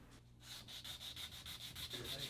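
Purple heart wood katana handle hand-sanded at fine grit, a steady run of soft scratchy back-and-forth strokes, about a dozen rhythmic passes, close and quiet with no talk.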